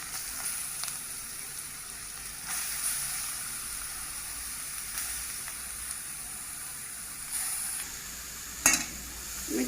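Grated carrots sizzle in a pan with a faint, steady hiss, while a utensil stirs them in occasional soft scrapes and one sharper knock near the end.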